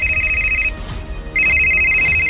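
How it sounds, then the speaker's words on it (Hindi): A telephone rings twice, each ring a steady electronic trill with a short pause between, fairly loud and close, with faint background noise. "2 रिंग के बाद ज्योति के पापा ने फोन उठाया"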